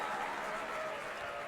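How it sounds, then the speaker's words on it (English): A crowd's applause comes through as a steady, fairly faint wash of clapping during a talk show, lasting about a second and a half without a break. "Let's get another round of applause for that because that's big"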